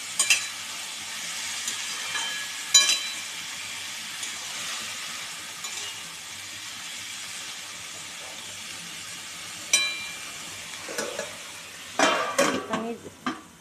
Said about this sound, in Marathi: मीठ टाकल्यानंतर चांगलं मिक्स करून घेणार आहोत परत